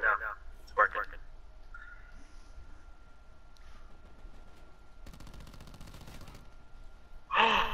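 Gunfire in Call of Duty: Black Ops 4 multiplayer, a few sharp bursts at the start and end, with a rattling stretch of rapid shots in the middle and quiet game ambience between.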